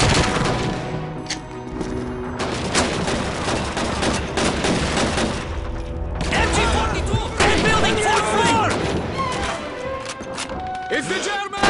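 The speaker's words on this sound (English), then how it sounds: "Put down suppressing fire!" Suppressing gunfire in the World War II shooter Call of Duty 2, loud dense volleys of rifle and machine-gun fire rattling almost continuously with thuds and impacts, shouting voices mixed into the battle.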